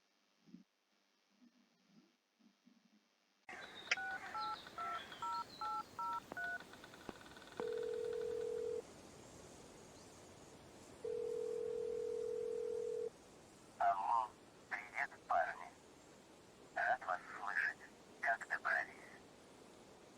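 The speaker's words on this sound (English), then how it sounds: "Listening to the phone call." A phone call from a SnowRunner custom scenario: touch-tone dialing beeps, then two long steady ringback tones and bursts of a voice on the line, clear and fairly loud after a quiet opening.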